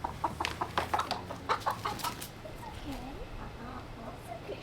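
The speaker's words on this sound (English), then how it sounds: "The chickens are here." Chickens cluck in a short series of close, pitched calls, with a few louder bursts early on and softer clucks continuing after, as people speak in the background at home.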